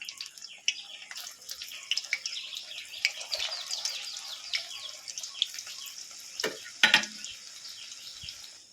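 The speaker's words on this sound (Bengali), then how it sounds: "সেমভাবে আবার এগুলো ভেজে নেবেন" Puffed rice pakoras deep-fry in hot oil with a steady, busy bubbling sizzle, punctuated by a few louder spits and crackles near the end.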